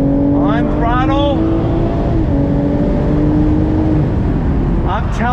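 2020 BMW Z4 M40i roadster accelerating under throttle, a steady loud engine drone climbing through the revs from inside the car, with a driver speaking over it at moments.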